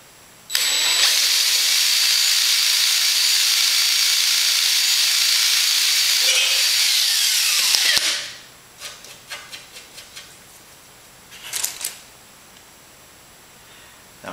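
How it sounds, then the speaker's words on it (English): A drill boring holes in an RV-7 aircraft wing flap hinge, with a loud steady high-pitched whine for several seconds that winds down, followed by scattered light clicks and taps. "I'm usually pretty good at feeling when the drill bit's going to punch through."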